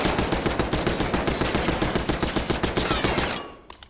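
A Tanto .22 SMG in a video game firing in one continuous burst, rapid evenly spaced loud shots for about three and a half seconds before cutting off abruptly.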